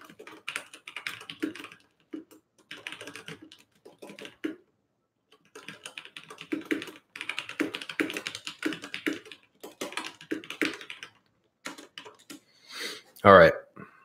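Someone types in quick, uneven bursts on a nearby computer keyboard, tapping the keys with short pauses between runs, and one louder knock near the end.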